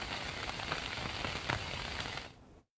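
Heavy rain falls in Tapi district, Gujarat, a dense steady hiss of drops striking surfaces at even loudness, with no voices, cutting off abruptly near the end.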